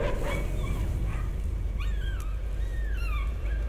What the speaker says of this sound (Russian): А, собаки-то с картины лают.